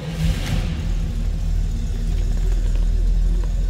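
A 1964 Chevrolet Corvair Monza 900 coupe with a Powerglide transmission runs just after being fired up, its engine a loud, steady, low rumbling idle heard up close without talking.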